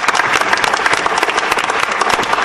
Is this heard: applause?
yes